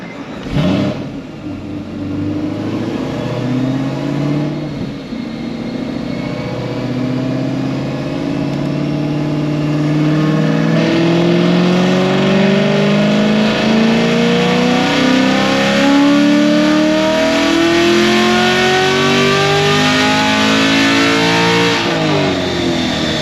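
A Corvette C7 Z06 with an RPM Stage 4 tune revs up loudly and close, its engine pitch climbing steadily in long sweeping pulls before dropping off sharply at the end.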